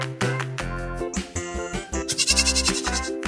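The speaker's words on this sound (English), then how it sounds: "Goat." A goat bleats in several wavering, nasal cries, loud and close, with short gaps between calls.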